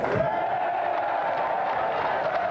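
A television game-show studio audience applauds and cheers for the champion, producing a dense, steady wash of crowd noise throughout with cheering on top.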